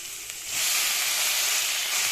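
After a brief quiet moment, a loud sizzle bursts up as cut, water-soaked potatoes drop into hot oil in a pan, then settles into a steady frying hiss.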